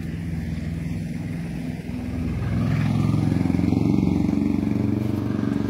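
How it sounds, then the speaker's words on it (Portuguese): A loud, rough car engine runs nearby outdoors, a steady low rumble that swells and grows louder midway through, with a few faint chirps above it and no talking. "Barulho do carro do Vitor ali que é barulhento."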